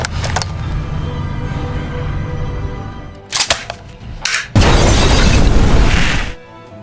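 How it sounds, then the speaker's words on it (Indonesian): A few sharp cracks and pops lead into a sudden loud blast that roars on for about two seconds before cutting off. "Ledakan itu tetap terjadi"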